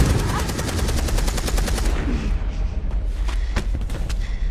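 Rapid bursts of automatic gunfire rattle loudly in a video game firefight, followed by scattered single shots.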